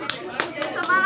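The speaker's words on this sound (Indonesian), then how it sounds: "Halo, tepuk tangan" A few distinct hand claps, roughly four spaced beats, at an Indonesian student organization meeting electing its new chair, with a voice speaking over them.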